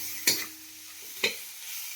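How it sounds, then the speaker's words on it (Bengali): Fish head frying in a pan, turned with a spatula for a home-cooked mixed-vegetable dish: three sharp scraping stirs over a soft, steady sizzle, close and fairly quiet, with no voices. "আমি একটু ভাজতে থাকি ভালো করে। মাথা দিয়ে ভাজা হয়ে গেছে"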